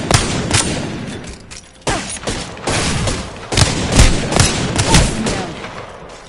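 Loud video game gunfire, heavy bursts of shots cracking and booming one after another with short pauses between volleys, close and dominant throughout.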